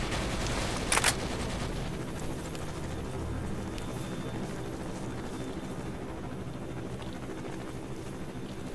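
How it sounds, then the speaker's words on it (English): Loud, continuous battle noise in the game S.T.A.L.K.E.R., with a dense rumble, a sharp burst near the start, helicopter gunfire and scattered distant gunshots throughout; no talking. "So there's a lot of gunfire going on."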